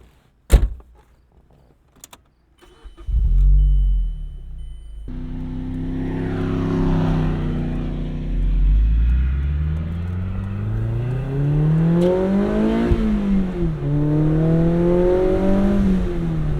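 A Mazda Miata sports car on a mild Michigan day: a door clunks shut, the engine starts with a burst and idles, then the car pulls away and accelerates through rising and falling gears, close and loud with no speech.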